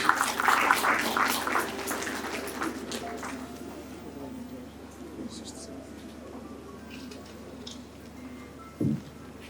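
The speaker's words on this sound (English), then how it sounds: "Please let's give him a round of applause." Audience at a tribute event for Senator Liyel Imoke gives a burst of applause that is loudest at the start and fades within a few seconds, leaving a quiet room with faint scattered sounds and one short thump.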